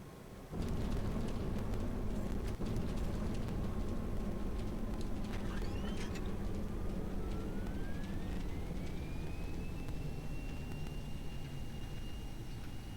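A Boeing 737-300 landing in X-Plane 11 with thrust reversers deployed, a steady roaring engine wash with a rising whine that climbs and holds high, continuous and fairly faint.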